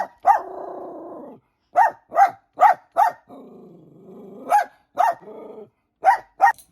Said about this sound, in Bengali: এত ঝগড়া করলো বাইরের ওই কুকুরটার সাথে